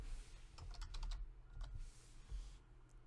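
A short, quiet flurry of computer keyboard typing, several rapid keystrokes clustered together, then a couple of separate taps after brief pauses, recorded close in a still room.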